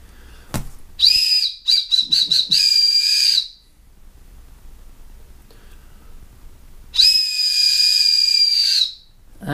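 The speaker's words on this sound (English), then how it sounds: "Wow, that is a crazy sounding whistle." A UST JetScream floating emergency whistle for a boat gives a loud, piercing shriek: first a stuttering run of short blasts, then after a pause one long steady blast, with no talking.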